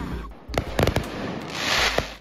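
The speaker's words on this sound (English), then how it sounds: "We're headed to the fireworks" Fireworks bursting at a lakeside show, a few sharp booming cracks clustered near the middle with a sustained crackling hiss after, moderately loud over steady background noise.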